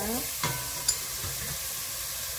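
Beef with soup soy sauce and sliced radish stir-frying in a pot for Korean beef soup, a soft sizzle with a couple of clinking spatula strokes, fairly quiet and brief.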